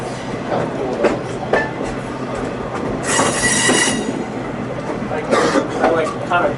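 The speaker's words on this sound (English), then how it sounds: "I think decent size locomotive." A locomotive-hauled train on the Western Maryland Scenic Railroad rolls past with steady rumble, metallic wheel squeal and clatter from the rail cars, loud and close, while people talk over it.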